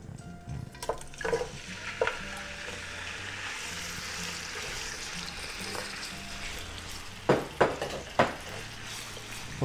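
Meat for a korma fries in a pan with a steady sizzle while a spoon stirs it, with a few louder clatters of utensil against the pan near the end and no talk.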